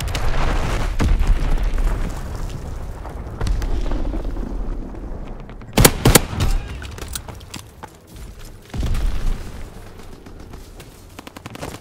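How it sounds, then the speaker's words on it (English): In the Call of Duty WWII video game, dense gunfire and booming explosions roll on continuously, with a sharp burst of cracking shots near the middle, loud and chaotic. "Enemy bomb incoming!"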